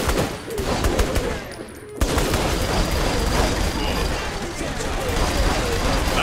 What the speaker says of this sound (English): Minigun shit!